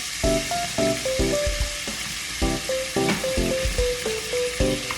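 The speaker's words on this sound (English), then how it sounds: "it's up on high, so we're just gonna let that sear" T-bone lamb chops sear on high heat in a hot pan, crackling and sizzling loudly and close up in uneven bursts, with no talking.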